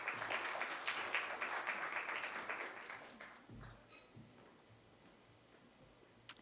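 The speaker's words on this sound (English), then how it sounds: "Let's give her a warm round of applause" Audience applause at a company business launch event, a dense wash of clapping that holds steady for about three seconds and then thins out and fades to scattered claps and room quiet.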